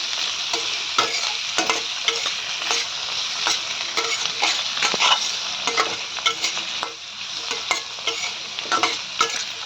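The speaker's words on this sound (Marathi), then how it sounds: "हे आपल्याला मऊ होऊपर्यंत छान बारीक गॅसवरती परतून घ्यायचं आहे" Tomatoes cook over a low gas flame in a kadai with a loud, constant sizzle and hiss, punctuated by repeated spoon scrapes and clacks as they are stirred, close up and without talk.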